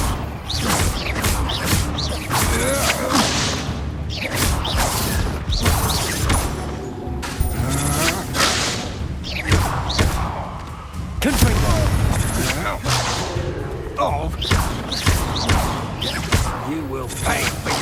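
In Hogwarts Legacy, the Confringo blasting spell goes off amid dense combat, with repeated bursts, crashes and whooshes under spoken game dialogue.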